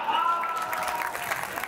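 Audience clapping at a Hindi comedy poetry gathering (hasya kavi sammelan), a short burst of applause from a crowd, steady and moderately loud, fading slightly toward the end.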